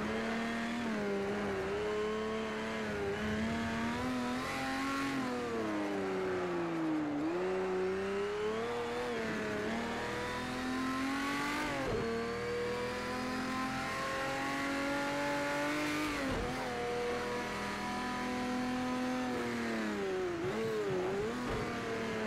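A Porsche 917K racing engine in Project CARS 2 on the Nordschleife, revving steadily through gear changes with rising and falling pitch, close and continuous with no talk.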